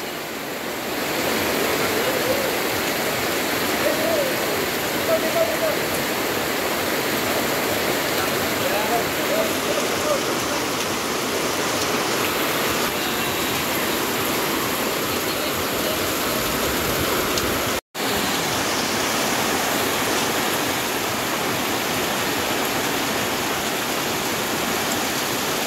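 Heavy rain during Typhoon Tino pours down in a dense, steady roar, like water drumming on surfaces, that holds nearly unbroken throughout with only one brief cut partway through.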